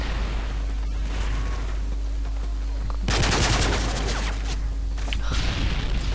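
Grenade blast and rapid gunfire in Call of Duty: Modern Warfare 3, a steady loud barrage of shots swelling into a dense burst of explosive noise midway, with no talk over it.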